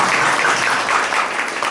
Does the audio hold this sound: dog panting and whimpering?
no